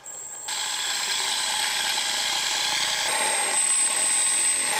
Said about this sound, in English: First run up of the rotors.